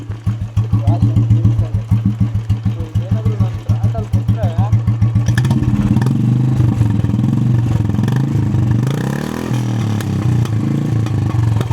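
Royal Enfield Electra motorcycle engine idling with no throttle, a steady low thumping beat for about five seconds, then a rougher, denser rumble with some clatter continuing close and loud to the end.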